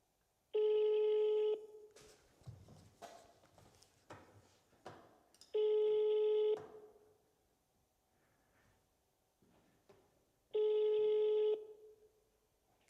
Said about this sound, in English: Is it ringing? I think it is.